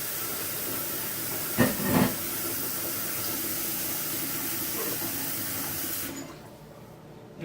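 Water runs steadily from a tap into a kitchen basin as it fills, a broad close hiss with a couple of brief knocks partway through, then cuts off abruptly near the end leaving near quiet.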